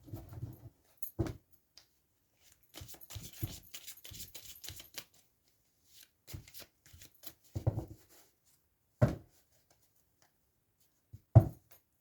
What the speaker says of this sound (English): I'll have another shuffle